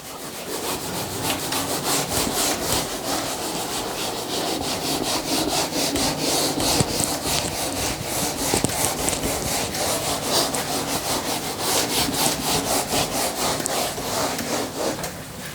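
Writing is rubbed off a board with rapid back-and-forth scrubbing strokes, a dense rhythmic rasping that continues steadily and close throughout, no voices.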